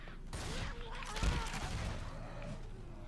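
Sub-machine gun fire in the video game Left 4 Dead 2 on Xbox 360, a rapid burst of close, loud shots with a heavy thump near the middle, and voices talk over the gunfire.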